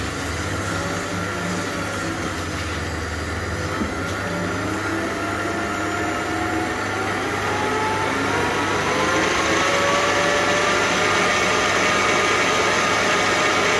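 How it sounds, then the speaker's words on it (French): Food processor whipping tiramisu cream with strawberry and speculoos, a loud continuous motor whir that starts at a lower pitch and climbs to a faster, higher whine, running steadily on its own without talk. "on va remettre au robot tout doucement et après à vitesse rapide, mais uniquement le temps que le mélange se fasse"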